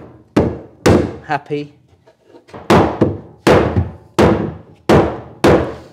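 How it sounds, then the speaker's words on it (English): A hammer taps a wooden staircase newel post down onto its tenon in a series of loud, close, solid thunks at a steady rhythm, with a brief spoken word between strikes. "I've just got to take the newel back onto its tenon, a little tap until we're all"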